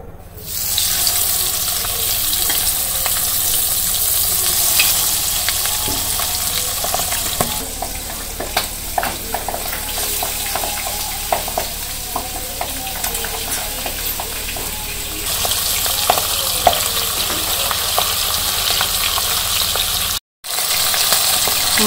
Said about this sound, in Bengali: তো মাছগুলো এখন তেলে দিয়ে দিব।